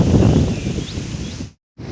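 Strong wind after rain blusters and rustles through garden trees and neem branches, a steady close roar that drops out completely for a moment before returning. No one speaks.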